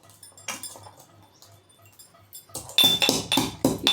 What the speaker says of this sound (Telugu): మనం దీంట్లో ఇప్పుడు యాలకులు దంచి పెట్టుకోవాలి ఫ్రెండ్స్